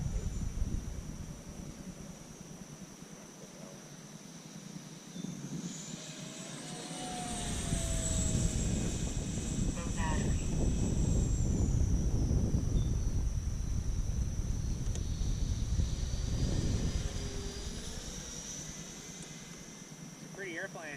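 A model jet airplane, a Freewing A-4 Skyhawk with an 80mm ducted fan, whines as it rises and swells overhead, loud and steady, then fades slightly, with people talking nearby.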